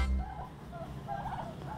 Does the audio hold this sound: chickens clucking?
yes